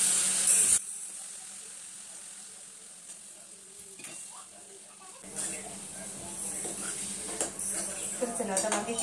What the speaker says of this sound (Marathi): तर चला आता वांग्याची भाजी ना फोडणी देऊन झाली